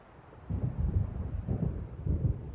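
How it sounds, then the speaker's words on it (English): Low rumbling thunder of an approaching storm in the video game Alan Wake, a few deep rolling swells after a quiet start, moderately loud with no talk. "It seems there's a storm coming."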